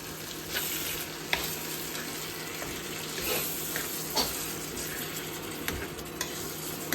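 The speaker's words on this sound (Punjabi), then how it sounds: "ਹੁਣ ਆਪਾਂ ਦਹੀਂ ਪਾ ਦਿੱਤਾ ਹੈ ਤੇ ਹੁਣ ਇਹਨੂੰ ਵੀ ਚੰਗੀ ਤਰ੍ਹਾਂ ਮਿਕਸ ਕਰ ਲਾਂਗੇ" Capsicum curry with freshly added yogurt hisses steadily in a pan, with soft intermittent stirring scrapes and occasional small ticks at a moderate, even level.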